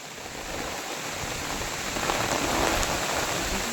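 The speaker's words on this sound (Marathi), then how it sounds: "तुफान पाऊस पडतोय" Heavy rain pouring down in a dense forest, a steady, loud wash of drops that builds slightly and continues without any voices.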